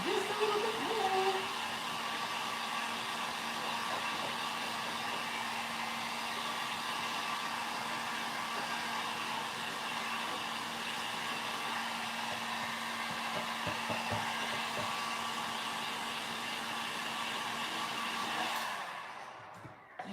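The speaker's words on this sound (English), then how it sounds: "I use the heat gun because obviously I want things to go fast on the lives." A heat gun blows steadily on a Christmas decor craft project with decoupage and pastes, a continuous loud airy whir that runs for a long stretch and cuts off at the end.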